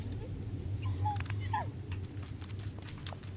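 A dog in the Blair Witch video game whimpers with a few short, high whines and yips against a low ambient hum, quiet and close.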